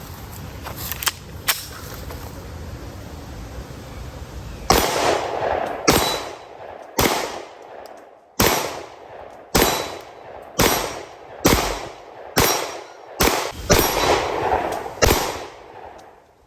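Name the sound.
CZ P-07 9mm pistol gunshots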